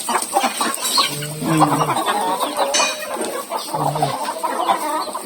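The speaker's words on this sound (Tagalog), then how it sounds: "Daming manok." Several chickens cluck and squawk close by in a busy, overlapping chorus, with a person briefly murmuring among them.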